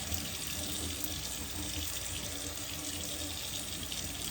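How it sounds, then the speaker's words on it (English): Tap water runs steadily into a sink while a candle is rinsed under it, a continuous broadband splashing that stays close and even throughout, with no talking. "I take this candle to the sink. Let's get our candle all nice and washed up."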